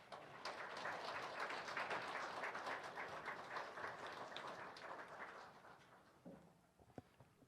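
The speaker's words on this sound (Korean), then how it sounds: "목사님 나오실 때 여러분 박수로 한번 환영해 주시기를 바랍니다." A church congregation applauds to welcome the pastor to the pulpit during a Sunday service. The clapping is sustained and dense for several seconds, then thins out toward the end with a few scattered final claps.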